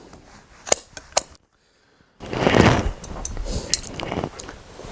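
Scissors cutting upholstery fabric give two sharp, close snips, then a short silence, then a longer stretch of rustling and scraping as the cloth is handled and cut.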